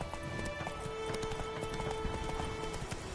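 Roach, a horse in a video game, gallops with fast, even clip-clop hoofbeats that run without a break, fairly close and moderately loud, with no voices.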